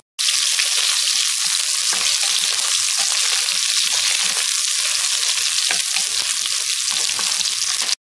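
Onions sizzle loudly in hot oil for biryani, a steady, close, bright crackling hiss that runs unbroken throughout.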